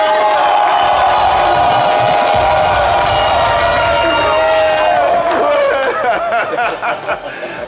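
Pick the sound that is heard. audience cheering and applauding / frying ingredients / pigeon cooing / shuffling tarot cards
audience cheering and applauding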